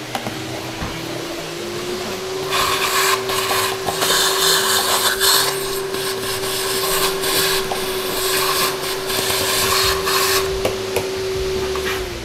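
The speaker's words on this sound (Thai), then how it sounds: "แล้วก็ใช้เครื่องดูดฝุ่นช่วย" A vacuum cleaner drones steadily while cleaning a Mahlkonig EK43 coffee grinder, with a constant motor whine throughout and louder rubbing, scraping bursts of the nozzle working over the machine in the middle stretch.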